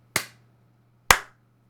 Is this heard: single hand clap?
yes